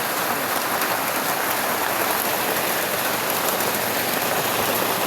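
Steady, dense rain pattering on a surface, a constant hiss with no pauses and no voices.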